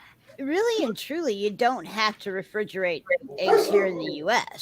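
Dogs bark and yip over steady conversational speech, with several overlapping bursts that are loudest near the end.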